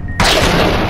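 A sudden loud Fallout: New Vegas explosion bursts in after a brief quiet moment, a wide roaring blast that sustains to the end.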